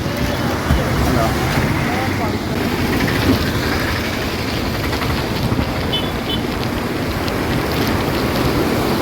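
Swollen river water rushing below Thootha bridge after a landslide tore away the bank and slab, a loud, steady, unbroken roar with gusty wind buffeting throughout.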